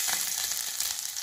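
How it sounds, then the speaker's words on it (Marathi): Garlic sizzles in hot oil on a tawa while Malvan-style neer phanas slices are being fried: a steady, close, bright crackling hiss with no pauses and no voices. "तेलात आता मी प्रथम लसूण घालते"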